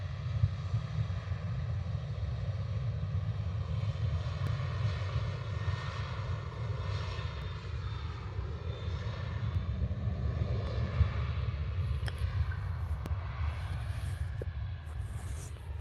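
A passenger airplane on its takeoff roll at Liverpool Airport in strong wind and heavy rain gives a steady, distant engine roar with a broad rumble that holds through the whole stretch, with wind buffeting the microphone.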